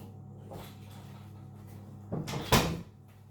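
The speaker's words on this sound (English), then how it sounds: "let me shut this door." A door in a home kitchen, during meatball cooking, is pushed shut with a single solid thud and a short rattle after a few seconds of quiet room noise.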